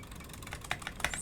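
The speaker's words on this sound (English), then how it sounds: "I am spam clicking for my life." Rapid, dense clicking of a mouse or keyboard during frantic play of Genshin Impact, a steady stream of sharp taps with a few louder hits, close to the microphone with no talking.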